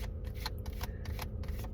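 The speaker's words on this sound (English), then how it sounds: "I'm shuffling because I am doing a reading for Monday morning." Cards shuffled by hand for a tarot reading, a quiet string of brisk riffling bursts in a fairly regular rhythm, close up with no talking.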